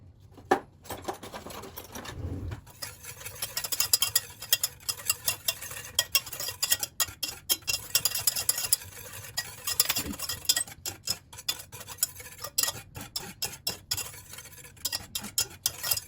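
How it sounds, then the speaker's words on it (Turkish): A spoon scrapes and taps in a bowl, stirring a dry mix of flour, starch, sugar and vanillin for pudding, giving a continuous quick rhythmic clatter close by. "Bunları şimdi karıştırıyoruz."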